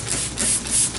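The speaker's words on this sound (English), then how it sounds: "To clean, I'm going to spray directly on the towel" A short burst of Turbo Chef oven cleaner sprayed onto a moist towel gives a brief, soft hiss lasting about a second, close by and alone.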